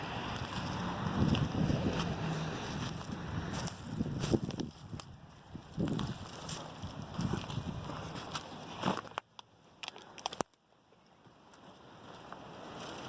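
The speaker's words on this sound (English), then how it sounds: "Wind's blowing quite a bit. I hope it's not affecting the video." Gusty wind buffets an outdoor microphone at a rock structure in Tennessee, with low rumbling blasts that rise and fall, then drop briefly to near quiet before picking up again.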